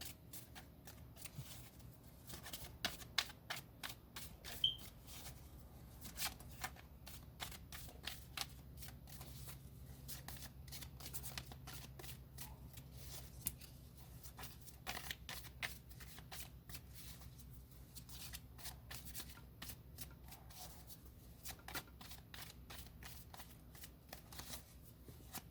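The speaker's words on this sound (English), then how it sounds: "The deck just wants to shuffle." A deck of tarot cards is shuffled by hand in quick, crisp riffling bursts, close and fairly quiet, repeating steadily over a soft background hum.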